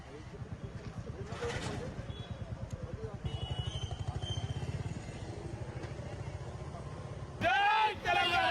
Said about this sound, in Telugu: కాలేజ్ వరకు బైక్ ర్యాలీ నిర్వహించారు